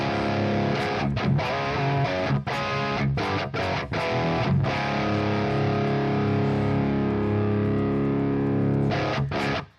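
A heavily distorted electric guitar through an amp simulator plays dense, crunchy chords with brief stops between strums, loud and close, with no talking.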